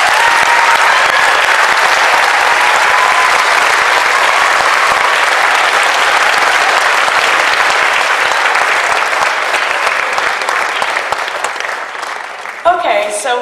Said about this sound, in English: Can you give these kids a round of applause?